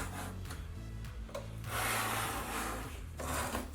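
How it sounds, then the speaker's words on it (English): A hand-held grout rake scrapes grout out from between wall tiles in repeated short rasping strokes, close up and fairly quiet, with uneven rhythm. "Here I'm using a grout rake in the same way you would to re-grout your tiles"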